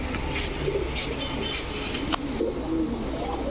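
Pigeons coo in a pigeon loft, including a pair of almond-coloured Gorra pigeons, low soft calls recurring steadily nearby over a constant background hum, with no talk.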